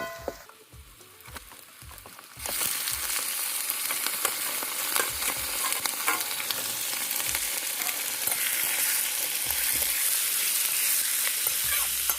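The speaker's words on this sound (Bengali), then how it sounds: "পেঁয়াজটা হালকা ভাজা হয়ে গেছে, এবার আমি এই চিকেনগুলোকে দিয়ে দেবো এর মধ্যে।" Chicken pieces go into a pan of lightly fried onions for a chicken curry, and a loud, steady sizzle of frying rises at once and holds throughout, with scraping stirs and soft knocks underneath.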